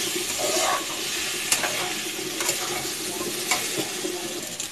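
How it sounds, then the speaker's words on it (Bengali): Chopped onions sizzle steadily in a pan over a medium gas flame for a curry, with soft stirring scrapes and a few sharper clicks of a utensil against the pan, close and continuous, no talking. "পেঁয়াজটা ভাজা হয়ে এসেছে"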